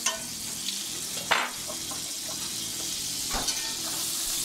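Butter melts in hot bacon grease in a pan and gives off a steady, soft, hissing sizzle with a few faint crackles and pops.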